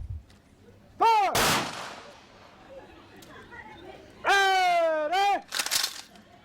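Ceremonial rifle volley in Kiribati, sharp cracks cutting through between commands shouted by a voice, the shots loud and ringing out against a quiet outdoor background.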